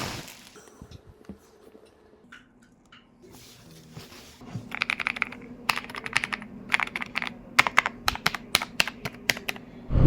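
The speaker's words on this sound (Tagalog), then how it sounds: "Yung Ajazz na AK350i. Ganda, grabe. Ganda ng tunog eh." Keys clack on an Ajazz AK350i mechanical computer keyboard, starting with sparse presses and building into fast, uneven bursts of crisp, close typing over a low steady hum.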